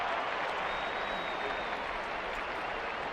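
Steady, dense crowd cheering and applause fills a baseball stadium in the video game Super Mega Baseball, a sellout home crowd for the Erie Spark, continuous and loud from start to end with no voices on top.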